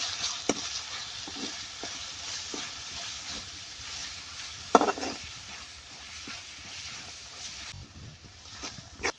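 Red chili powder and garam masala being stirred into a hot pan for kachalu kofte, with steady sizzling and scraping, irregular spoon knocks and one sharp clack midway, close and without talk.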